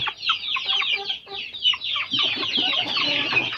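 Several two-month-old native fighting-breed chicks cluck and peep close by in a steady overlapping chorus, with soft rustling underneath and no talking.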